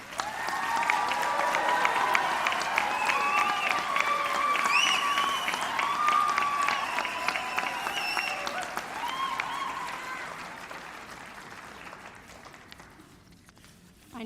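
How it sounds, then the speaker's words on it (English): Sustained applause from a crowd at a nursing college graduation and pinning ceremony, dense steady clapping with some cheering that carries for most of the stretch before gradually fading near the end. "Let's give these students a round of applause."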